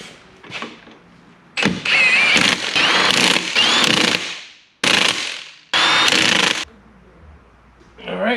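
A power tool whirs and rattles in several loud, separate bursts while wheels are mounted on a 1996 Chevrolet Impala, with quiet gaps and some clanks between runs.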